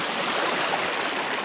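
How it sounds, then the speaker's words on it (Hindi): Babbling stream water at Pari Tal in Uttarakhand flows in a steady, broadband rush, with no pauses, close and moderately loud, and nothing else is heard over it. "कलकल कलकल की जो आवाज़ है ना ये बहुत सूदिंग लगती है भाई"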